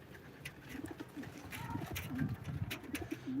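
Live pigeons cooing at a pigeon auction, several soft, low, rolling coos close by, scattered across a quiet background with faint murmuring in the room.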